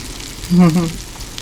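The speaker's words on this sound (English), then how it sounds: "Anyway, move the sausage around a little bit." A sausage fries in a pan with a steady, close sizzle, and a brief voice-like sound briefly rises over it.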